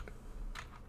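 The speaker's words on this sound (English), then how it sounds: "I'll line that up a little better using the arrow keys" Two quick, soft clicks of arrow keys pressed on a computer keyboard while nudging a part in the Barotrauma submarine editor, close and quiet with a short gap between them.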